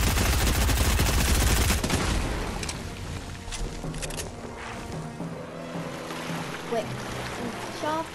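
Gunfire in a Fortnite match, a dense burst of rapid shots loud up front for the first couple of seconds, then fading into scattered, more distant reports with game sounds and a player talking over them.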